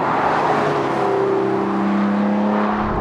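A Lotus Emira with a four-cylinder engine drives along, its engine note a steady broadband roar with a rising tonal drone, close and loud, no talk.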